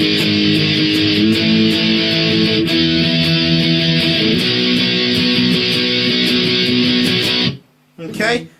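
Distorted electric guitar plays the verse of a song as loud, steady chugging power chords, continuous for about seven seconds before stopping abruptly, followed by a brief burst of quieter sound.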